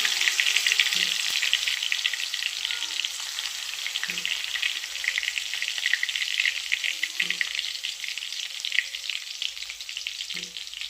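Cumin seeds and crushed garlic sizzle steadily in hot oil, a dense continuous frying hiss with a few soft stirring knocks spaced through it, close and fairly loud with no talking.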